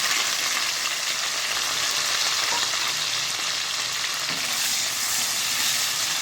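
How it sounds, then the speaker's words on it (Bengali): Steady broadband sizzling of onions frying in a frying pan, continuous and close, with no voices. "এখানে আমি একটা ফ্রাই প্যান বসিয়ে দিলাম তারপর পেঁয়াজগুলো দিয়ে দেবো"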